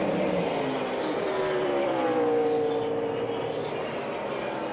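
Race cars roar past at speed during the NASCAR Good Sam RV Insurance 500, a loud steady engine wash with a rising and falling pitch as cars sweep by, no voices over it.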